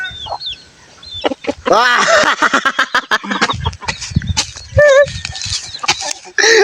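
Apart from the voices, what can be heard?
chicken clucking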